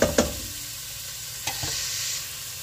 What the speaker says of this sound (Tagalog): Ito natin, halo-halo natin lahat.